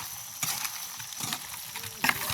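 Food being stirred as it fries in a pan in a village kitchen, with tamarind just added: a bed of hissing sizzle broken by several scraping, clattering stirs, the loudest near the end.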